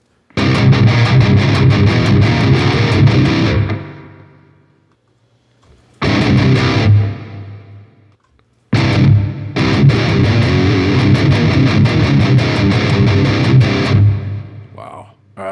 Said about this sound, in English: Let's add a little reverb to that. Like a spring, maybe?